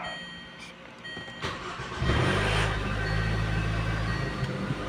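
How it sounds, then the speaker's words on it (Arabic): A Range Rover with a starting problem cranks briefly, then catches at about two seconds and settles into a loud, steady idle with slightly raised revs, heard close up. "الحمد لله اشتغلت السيارة"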